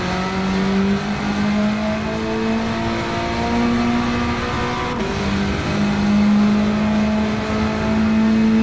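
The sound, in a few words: Honda Civic Type R accelerating in Gran Turismo 7 video game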